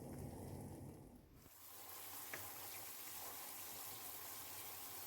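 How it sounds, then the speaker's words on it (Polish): Cold water poured over boiled elder ear mushrooms gives a quiet, steady rushing gush that starts abruptly and continues evenly to the end, with no talking. "Możemy je zalać zimną wodą."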